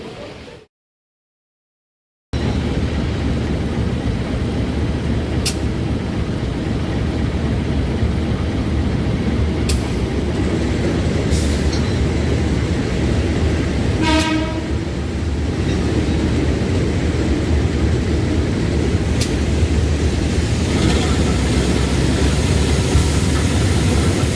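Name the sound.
Parahyangan train at station platform 1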